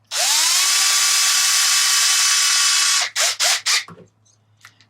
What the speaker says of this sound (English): So let's put the other bolts in there